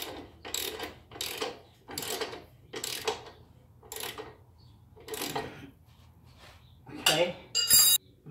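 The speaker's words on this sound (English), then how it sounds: "we're going to tighten up this nut, and then I'm going to" Wrench tightening a nut on a 2001 Suzuki GZ250 motorcycle, a series of about eight evenly spaced ratcheting bursts, close and moderately loud, with a sharper metallic clink near the end.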